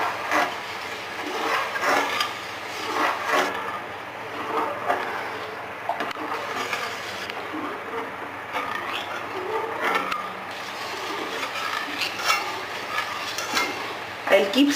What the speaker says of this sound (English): I'll keep stirring till the time it becomes a little thick and it is saucy.